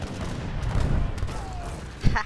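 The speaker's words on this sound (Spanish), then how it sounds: "Cañonazo limpio" Cannon fire from a battle in the Age of Empires III strategy game, heard as a burst of booming shots and crackling gunfire, with a voice talking over it.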